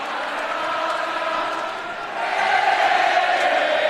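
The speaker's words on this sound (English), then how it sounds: "The crowd is screaming goodbye" Basketball crowd at a college game roars after a made free throw in a gym, loud sustained cheering and shouting that dips briefly and then swells again, with an announcer's voice running underneath.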